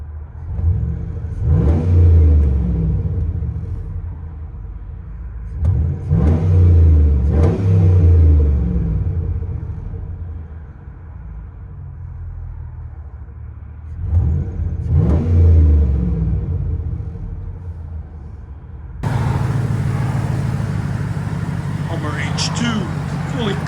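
Custom Hummer H2 with a 6.2L V8 and straight-pipe exhaust revving, several loud deep blips rising and falling close by with idle rumble between, the last stretch heard from inside the cabin with a steadier hum.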